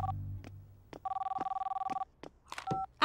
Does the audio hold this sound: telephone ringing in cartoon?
yes